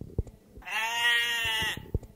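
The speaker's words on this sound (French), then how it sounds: "cette année, elle a demandé une chèvre" A goat bleats once on a comedy festival stage, a single loud, long quavering cry standing alone between brief bursts of audience or stage noise.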